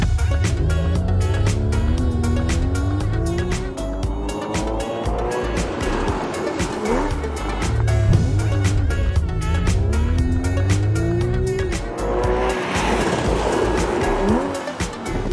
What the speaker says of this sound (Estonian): Õnneks on meil käepärast kollane superauto ja täiesti tavaline elektriauto pistab sellega nüüd rinda. Võistluse nimi on kiirendusvõistlus.